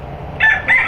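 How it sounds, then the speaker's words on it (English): A fighting rooster on a pig farm gives a short, loud, close crow in two quick bursts. "That's a rooster, though, right?"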